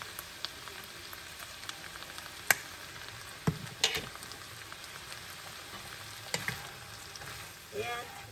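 Shrimp frying in butter in a pan, a continuous soft sizzle with scattered pops and occasional stirring scrapes, close by and fairly quiet.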